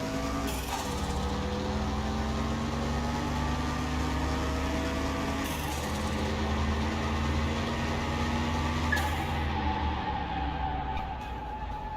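Simulated V8 car engine running steadily in Car Mechanic Simulator 2021, a continuous low idle-like drone with harmonic tones that shift in pitch at intervals, with no speech over it.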